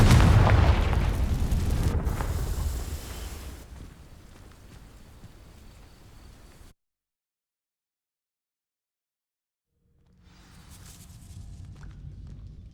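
Fire spell in Hogwarts Legacy igniting dry vines, opening with a loud booming burst that decays into crackling rumble, then cuts to silence before faint ambient rustle returns.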